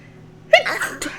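A single sharp sneeze bursts out close by, followed by a short breathy tail and a second smaller burst.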